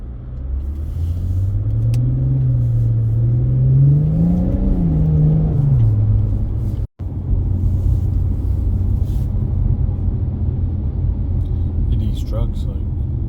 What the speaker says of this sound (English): there's a ton of them right now because they're removing snow.